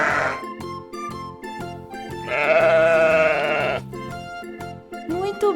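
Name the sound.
sheep bleating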